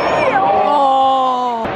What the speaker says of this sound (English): I'm just gonna listen to the crowd.